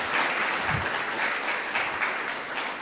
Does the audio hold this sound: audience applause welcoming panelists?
yes